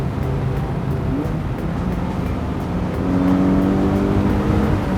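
A Mazda MX-5 roadster drives a winding mountain road, its engine a steady close drone that rises in pitch and grows louder as it accelerates toward the end, with no talk over it.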